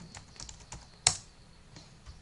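A few soft keystrokes tap on a nearby computer keyboard in a brief, quiet sequence, with one sharper click standing out midway.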